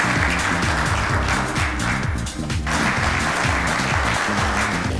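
Dense, continuous applause from an audience at a political academy lecture fills the whole stretch, many hands clapping evenly with only a brief dip in the middle.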